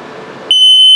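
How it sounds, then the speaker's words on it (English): A self-testing carbon monoxide and LP gas detector in a 2020 Zinger 299RE travel trailer gives a single sharp, steady electronic beep that starts abruptly and holds loud and piercing after a stretch of soft background hiss. "It detects carbon monoxide and LP gas buildup. I'll do a self-test there."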